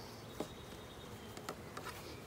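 Honeybees humming in a steady low drone at an opened hive box during an April inspection, the buzzing fairly faint and continuous with a few brief nearer bursts as individual bees pass close.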